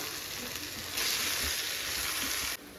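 Chicken pieces dropped into a pan of well-sautéed masala for pepper chicken set off a loud, continuous hiss of frying that swells partway through and drops at the end, with no voices.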